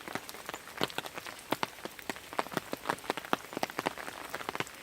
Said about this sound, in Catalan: amb aquesta sensació de pluja, amb aquesta imatge de l'aigua caient enmig d'aquest bosc tan preciós